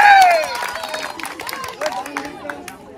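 Crowd applause and cheering at a village cricket bat-and-ball tower-breaking challenge, a burst of clapping and mixed shouts over lively chatter, with people talking and calling out throughout.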